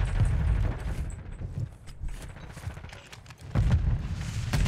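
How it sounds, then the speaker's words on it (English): Gunfire and a booming grenade blast in Warzone on Rebirth Island: loud bursts of shots and thuds open the clip, a quieter stretch follows, then a heavy burst of impacts near the end. "Threw a nade at me"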